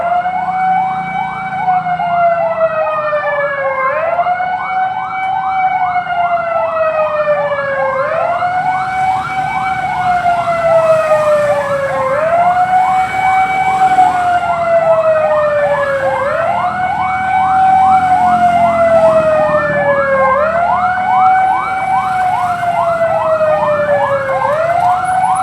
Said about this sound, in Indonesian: Sirine masjid beda dengan ini, ada mobil apa kita belum tahu